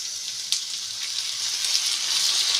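Browned onions frying in a pan of oil for mustard hilsa give a steady, fairly loud hiss with a soft crackle, carrying on without pause and no voices over it.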